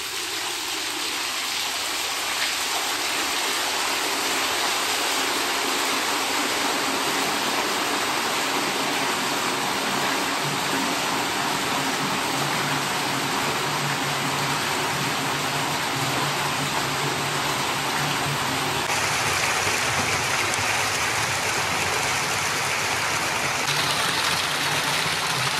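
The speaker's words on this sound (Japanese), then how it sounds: "勢いよく新鮮なお湯が投入されます" Fresh hot spring water gushes from a coin-operated filler into a plugged bathtub at a family bath in Hita, Ōita, a steady loud broadband rush that stays constant throughout.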